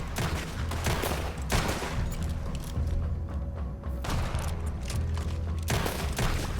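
Gunfire in the video game Red Dead Redemption 2: loud, dense volleys of shots and heavy thuds rolling almost without pause, with a short lull in the middle before the firing swells again.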